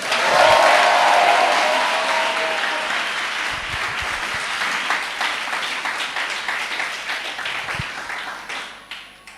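A church congregation applauding, with loud, dense clapping that swells early and then slowly thins into scattered claps.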